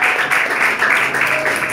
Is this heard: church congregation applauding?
yes